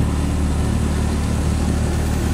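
Vehicle engine on the road to Curug Lembah Tepus, a steady, loud, low drone that holds even throughout with no talking.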